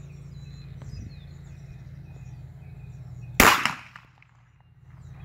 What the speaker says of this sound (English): First bullet will go bang